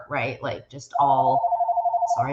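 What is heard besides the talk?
phone ringing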